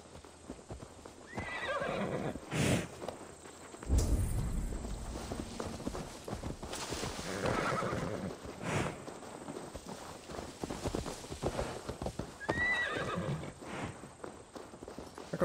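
Horse hooves clip-clop and a horse neighs loudly in Assassin's Creed Valhalla, with footfalls and a whinny standing out over game ambience and no talk.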